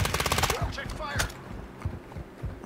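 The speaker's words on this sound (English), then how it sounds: "You are taking effective fire." Rapid automatic gunfire in Call of Duty DMZ, a fast rattling burst up close followed by scattered single shots and more distant pops, with a voice speaking over it.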